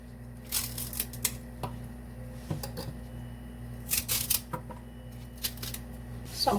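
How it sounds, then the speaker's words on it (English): A knife slicing off the ends of plantain and green banana, giving a series of short, crisp cuts and taps scattered over a steady low background hum, close and fairly quiet. "I'm going to cut the ends of the plantain"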